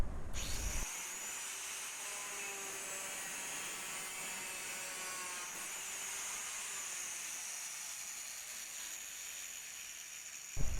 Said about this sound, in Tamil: இப்போ நம்ம அடுத்து ஒரு பிவிசி பைப்பை கட் பண்ண போகிறோம்